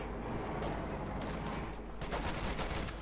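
.50 caliber machine gun fire in the video game Company of Heroes 2, rattling in sustained dense bursts amid a steady roar of battle noise and other gunfire, loud and continuous throughout.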